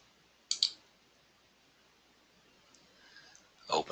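A computer mouse double-clicks in invoicing software, two quick sharp clicks up close, followed by a quiet stretch and then another clicking burst at the end.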